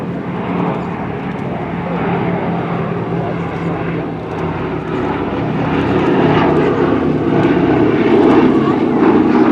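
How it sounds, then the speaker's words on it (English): Piston engines of a Boeing B-17 bomber taxiing in a World War II weekend airshow parade, a steady loud propeller drone that swells slightly toward the end against open-field ambience. "the B-17."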